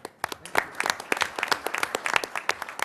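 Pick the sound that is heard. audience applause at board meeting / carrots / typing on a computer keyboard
audience applause at board meeting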